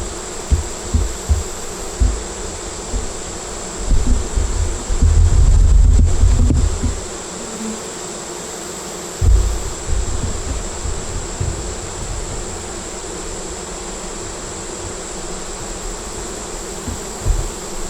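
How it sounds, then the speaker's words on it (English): Honeybees swarming around the top edge of a backyard hive box, a steady outdoor drone of wings with low rumbling handling noise and bumps, no talking. "Bees over here"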